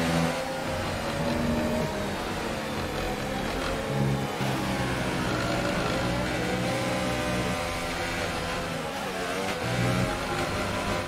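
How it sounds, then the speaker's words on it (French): A failing Mercedes Formula 1 engine with a mechanical fault, heard in the F1 2018 video game at the United States Grand Prix, drones and revs roughly with uneven, rattling tones against steady background noise. "le défaut mécanique est bel et bien distinct dans le son de ce bloc Mercedes"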